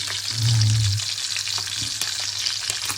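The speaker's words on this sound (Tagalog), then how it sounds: "nagpiprito tayo ng isday" Hot oil sizzles and crackles steadily as sea bream fries, close up, with a brief low thump near the start.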